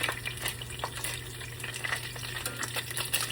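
Bacon frying and spattering in a pan on a home stove, a steady close sizzle with scattered small crackling pops throughout.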